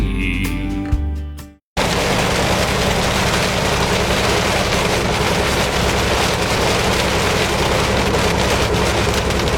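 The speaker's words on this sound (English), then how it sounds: "We're hitting lots of hail." Dense, steady broadband pelting of hail hitting a moving truck over a low engine rumble, continuous and loud after a brief silent gap near the start.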